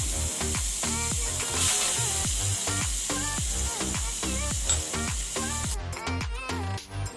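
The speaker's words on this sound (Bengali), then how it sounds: "অন্যদিকে একটি ননস্টিকের বাটিতে আমি তেল কিছুটা গরম করে নুন হলুদ মাখিয়ে রাখা চিংড়ি মাছটা আমি ভেজে নেব।" Shrimp coated in salt and turmeric fry in hot oil in a nonstick pan, giving a loud, close, continuous sizzle with bursts of crackling and popping from spattering oil, heard alone without talk.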